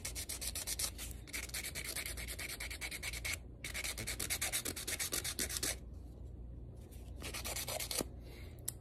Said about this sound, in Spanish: voy a seguir aquí limando